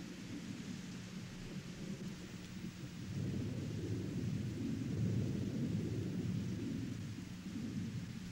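Steady rain pours outdoors beneath a deep, continuous rumble of thunder that swells louder midway, a dense, unbroken storm wash with no voices.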